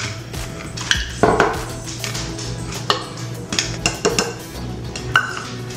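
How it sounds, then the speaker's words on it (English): Ice cubes dropping into a cup for a homemade Starbucks-style drink, giving several irregular close clinks and rattles with a steady low hum underneath and no voices. "Then you take your cup, you have your ice."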